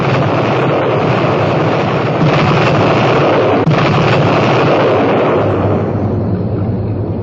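Heavy bombers drop bombs in a continuous, very loud roar of explosions and blasts, dense and unbroken throughout, with a sharp crack near the middle.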